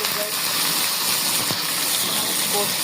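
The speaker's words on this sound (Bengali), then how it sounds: "আমি একটু পানি দিয়ে দিলাম" Water goes into a frying pan of fish roe with onions and spices, making a continuous loud rushing hiss and gush that lasts the whole short moment, close by.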